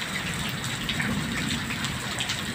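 Water gushing from the Moturu dam in Jangadiya as it overflows after very heavy rain in a forest area, a steady splashing rush with scattered droplet crackle, moderately loud and continuous, no voices.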